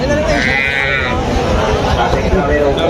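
A Rathi goat bleats once at a livestock market, a wavering nasal call lasting about a second, close by amid a noisy background with voices murmuring.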